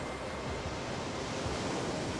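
Faint, steady wash of ocean waves, a soft continuous surf roar with no distinct breakers and no voices.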